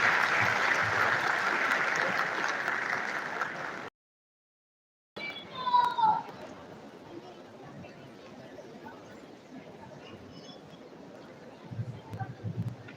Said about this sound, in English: another round of applause for our guest lecturer